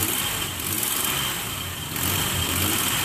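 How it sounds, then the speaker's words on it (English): A 1995 Nissan Pathfinder D21 engine, with an O2 sensor fault, is revved and stumbles and hesitates. It gives a steady, close engine roar with a brief dip in the middle before the revs swell again, and no one talks. "It hesitates when you jump on it."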